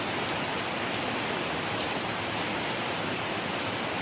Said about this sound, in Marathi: बापरे, केवढा पाऊस आहे